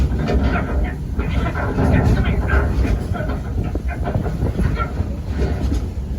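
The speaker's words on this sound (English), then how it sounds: "That's not a snake. It's a train." The Walt Disney Railroad theme park train rumbles along steadily with a rattling clatter, close and loud, while voices talk over the noise.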